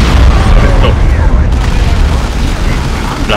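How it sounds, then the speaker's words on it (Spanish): A plasma cannon shot in the Warhammer 40k Dawn of War 2 video game booms loud and sustained amid dense battle noise, with continuous low rumbling throughout. "Un cañonazo de plasma."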